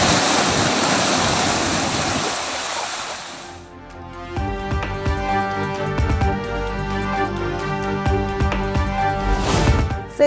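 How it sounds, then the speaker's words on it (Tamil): The Sankarabarani river floods after heavy rain, a loud continuous rushing roar of fast water that shifts into a dense churning wash with splashing surges, close and steady throughout. "செஞ்சியில் கொட்டி தீர்த்த கனமழையால் சங்கராபரணி ஆற்றில் வெள்ளப்பெருக்கு"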